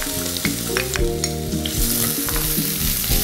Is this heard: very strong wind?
no